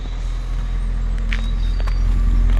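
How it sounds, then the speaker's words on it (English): Jaguar XK8 AJ engine idling at the tailpipes, a steady, low, smooth hum that stays quiet and even throughout, with a faint click or two over it. "So that is Jaguar's beautiful AJ engine."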